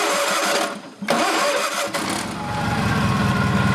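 A 1989 Craftsman GT-20 garden tractor with a 6-speed transmission, 44-inch deck and Onan engine cranks, catches and settles into a steady, smooth idle. It is close and loud, with no talking.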